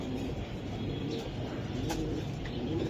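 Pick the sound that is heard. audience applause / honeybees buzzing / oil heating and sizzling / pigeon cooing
pigeon cooing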